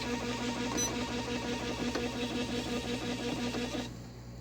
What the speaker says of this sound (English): And that printer will give us all our department configuration.